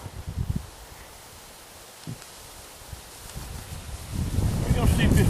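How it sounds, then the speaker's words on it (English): Wind blows outdoors at a long-distance rifle range, a broad rushing hiss with low rumbling gusts that swell loudly toward the end, close to the microphone. "We're going to see if this wind's going to let me, because it's certainly picking up."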